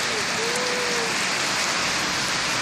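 Rain falls steadily in a dense, even hiss throughout, close and unbroken, with no distinct drops standing out.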